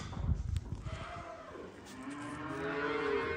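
Outdoor cattle on a farm moo in long, drawn-out calls near the end, preceded by a few low thuds and rustling, fairly faint overall.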